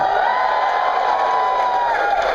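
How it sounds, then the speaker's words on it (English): A live podcast audience cheers and whoops in a loud, continuous burst of crowd noise, with wooing voices over scattered clapping. "Just wanted to hear a little bit of applause and woo."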